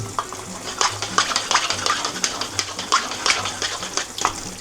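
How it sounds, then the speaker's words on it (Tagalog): Pork pares stirred in a pan, with repeated scraping and clattering strokes of a utensil against the pan over a soft sizzle, close and rhythmic. "Haluin muna natin, no?"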